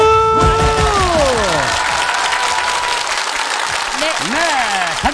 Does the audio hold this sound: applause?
yes